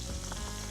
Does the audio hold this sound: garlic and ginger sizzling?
yes